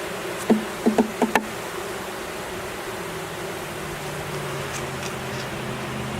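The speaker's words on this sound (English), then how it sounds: "These are worker bees right here." A steady buzzing hum of bees fills the background, with a few sharp clicks or taps near the start.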